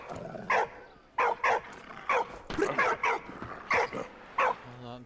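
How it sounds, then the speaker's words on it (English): A dog in the Valiant Hearts game barks repeatedly in short, sharp bursts, roughly eight loud yips spaced unevenly across the span, close by and with no one speaking. "Dog barking at."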